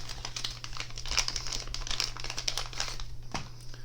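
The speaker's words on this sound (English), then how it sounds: "Let's open this package. Get in the Ziploc bag." A plastic Ziploc bag package is opened with close, continuous crinkling and rustling of plastic, plus a few sharp crackles, against a steady low hum.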